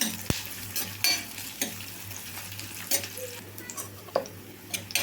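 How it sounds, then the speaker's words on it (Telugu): Onion and green chillies fry in a pan under a soft steady sizzle, with intermittent scrapes and clicks of stirring scattered across it. "ఉల్లిపాయ పచ్చిమిరపకాయ బాగా వేగాలి"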